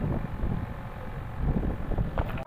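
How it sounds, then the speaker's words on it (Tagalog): Strong gusty wind at a seaside promenade rumbling against the microphone, swelling and easing in waves, fairly quiet overall with no clear speech. "Ang hangin!"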